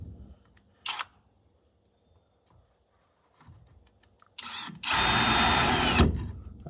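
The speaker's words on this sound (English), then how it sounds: "I just want to get the hole big enough that my bolt will go through and hold itself in place." An electric power drill bores a hole for a bolt, starting with a brief trigger burst, then after some small handling knocks a loud, sustained whirring run lasting about two seconds.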